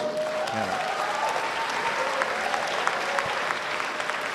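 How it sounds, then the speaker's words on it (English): An audience at a university lecture applauds the distinguished speakers, a broad, continuous wash of clapping from many hands heard at a moderate distance, with a brief voice at the start. "Please give them warm applause."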